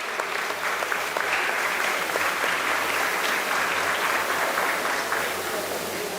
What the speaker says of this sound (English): Can we have a round of applause for everyone,